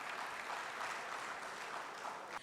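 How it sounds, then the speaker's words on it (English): An audience claps for a senator at a constituency loan launch event, a steady moderate wash of many hands heard from a short distance that continues evenly before tapering off at the end. "A round of applause for him, please."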